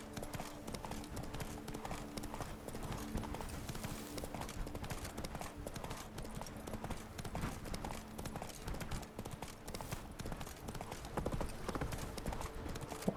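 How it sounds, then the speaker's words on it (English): Horse hooves clip-clop steadily and continuously in The Witcher 3 video game, a quick rhythmic gallop held at an even, fairly close level throughout with no talking. "Let's just go on the fucking horse now, man."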